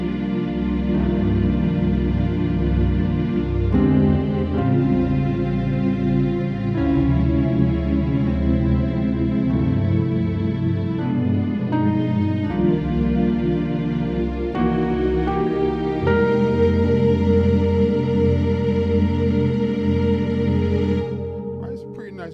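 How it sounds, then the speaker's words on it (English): Blended keyboard rig of piano, Rhodes electric piano and organ played together over a sustained synth pad, a full, continuous chordal texture with shifting chords that fades slightly at the very end, no talking. "the piano, the Rhodes, and the organ at the same time"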